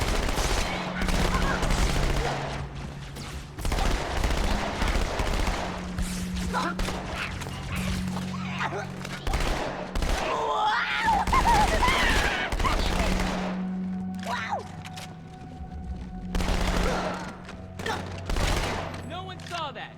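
Halo 2 Anniversary gunfire, rapid bursts of automatic shots and heavier blasts crackling continuously over low rumbling game audio, close and loud, with occasional talk.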